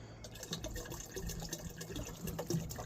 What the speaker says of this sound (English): So what I'm going to do is I'm going to add my premix of bleach.